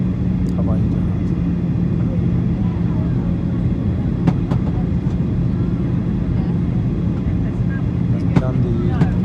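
A constant, deep engine drone fills an airliner cabin on landing approach to Barcelona Airport, steady and loud, with a few faint clicks and shifts breaking through the hum.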